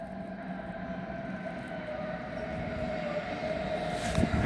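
Steady rumble of a train at a station platform, a continuous low drone with a sustained hum that slowly grows louder toward the end, with no voices over it.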